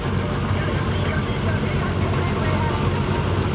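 A tractor engine idles during the wheat harvest, a steady, low rumble without pause, close by and fairly loud, with a constant vibrating drone throughout.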